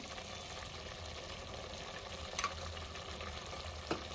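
Ghee sizzles in an Old Delhi style potato curry masala, a faint steady frying hiss with a couple of brief clinks of a spoon stirring the pan.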